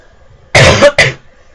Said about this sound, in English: I also had a bit of a cough.